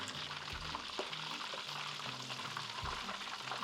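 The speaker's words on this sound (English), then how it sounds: "The beef, it fries a lot darker than the pork" Beef meatballs fry in a pan with a soft, steady sizzle and crackle, broken by a few low thumps as they are moved around; the sound is quiet and close, with no talking.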